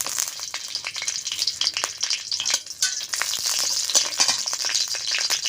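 Green chillies frying in hot mustard oil in a pan, a crackling, spitting sizzle with sharp pops and bursts, close and lively, with no talk.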